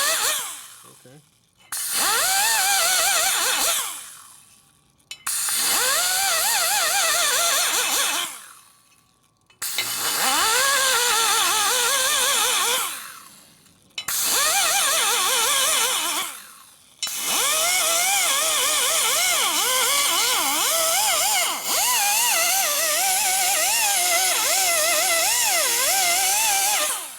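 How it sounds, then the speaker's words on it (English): Power grinder working the port of a Harley shovelhead cylinder head, a loud high whine in long bursts of a few seconds each that start and stop, ending in one long continuous grind. "See how I'm grinding on the outside now?"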